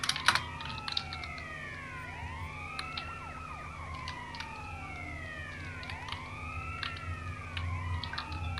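A police car siren in GTA San Andreas Multiplayer wails in repeated rising and falling sweeps, with overlapping tones from more than one unit, at moderate volume beside scattered sharp keyboard clicks.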